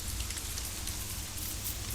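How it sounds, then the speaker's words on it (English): Dense, steady rain hissing and pattering in the video game Don't Starve, a continuous close wash of falling drops with no talk. "Oh, it's raining."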